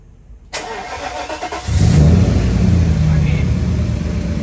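A Mercedes W140 engine cranks briefly after its fuel system is primed, then catches and fires up, settling into a loud, steady idle up close.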